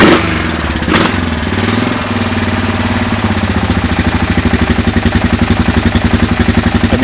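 A Kawasaki Lakota ATV engine cranks over with the starter, catches, and settles into a steady, even idle with regular rhythmic thumping pulses, loud and close.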